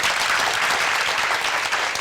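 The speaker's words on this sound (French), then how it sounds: "il faut l'applaudir." A studio audience applauds a guest on a French talk show, dense and even clapping at close range that holds steady and loud throughout.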